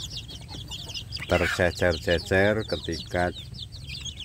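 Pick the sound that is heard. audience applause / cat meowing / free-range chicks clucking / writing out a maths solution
free-range chicks clucking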